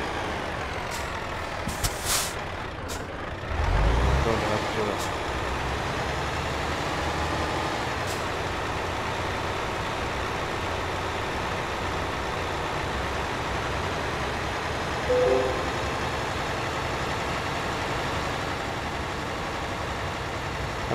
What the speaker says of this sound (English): this is the Volvo truck driving in here.